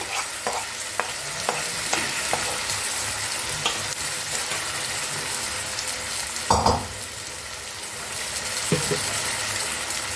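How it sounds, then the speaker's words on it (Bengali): Fried prawns tossed with spices in hot oil for a jackfruit curry, a continuous close sizzle with scattered spatula scrapes and one louder clatter midway, no voices. "এবার আমি ভেজে রাখা চিংড়ি মাছগুলো দিয়ে দিলাম।"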